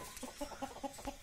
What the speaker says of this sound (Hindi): तो ये है कड़कनाथ की मुर्गी